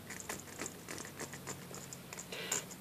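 Plastic bird ladder with a grip being handled near the microphone, with soft irregular scratches, taps and rustles, quiet and close, and no one speaking.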